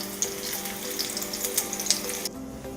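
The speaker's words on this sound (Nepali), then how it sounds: "अर्को साइडबाट पनि हामी यस्तै रातो रातो हुने बेलासम्म यसलाई फ्राई गर्ने छौं" Eggplant slices fry in hot oil with a dense, close sizzle full of crackling pops, then the sizzle drops away sharply near the end.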